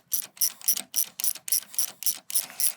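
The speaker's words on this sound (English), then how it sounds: "I'm using a 7/16" box wrench and socket to remove the feet" A 7/16-inch socket wrench ratchets steadily while taking the feet off a Werner ladder leveler, giving about a dozen crisp, evenly spaced clicks up close with no voices.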